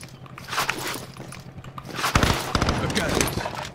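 Gunshots in a video game crack out in irregular bursts over game noise and footsteps. A voice talks over them.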